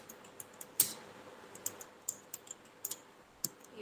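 Computer keyboard keys pressed one at a time while entering data in Tally accounting software, giving sharp, isolated clicks at an uneven pace with one louder tap, close and alone with no speech.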